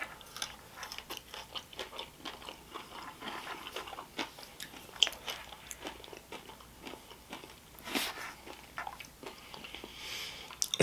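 Crunchy Doritos-and-Reese's snack with potato chip pieces being chewed close up, a steady run of small crisp crunches and bites with no talking.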